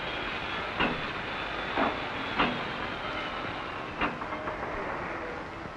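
A Norfolk and Western freight train rumbles along steadily with a constant hiss, and a few sharp clanks from the rails break through at irregular intervals.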